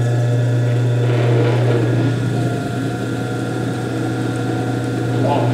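A car engine idles steadily with a constant low hum while the alternator belt is tensioned so the alternator starts charging, a close, even mechanical drone throughout with no spoken voices.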